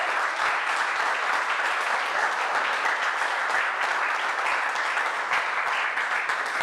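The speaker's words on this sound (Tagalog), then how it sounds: "palakpak para kay Jesus" A church congregation claps steadily for Jesus during a Sunday sermon, dense even applause filling the room without a break.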